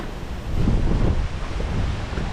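Strong wind buffets the microphone at night during the Key West Fantasy Fest parade, a steady loud rumbling roar that swells after the first half second and persists throughout with no talk.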